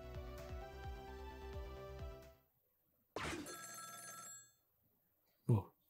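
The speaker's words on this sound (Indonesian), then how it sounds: "Pas banget ada telepon" Telephone ringing in the video game Ghost Trick: Phantom Detective, a loud electronic ring repeating for about two seconds, then a short musical jingle and a final brief blip.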